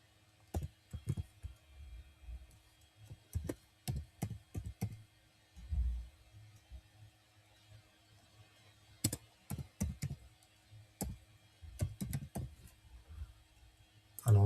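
Username and password entered on a computer keyboard in bursts of crisp, close key clicks, separated by brief pauses, with occasional heavier thumps in an otherwise quiet room and no speech.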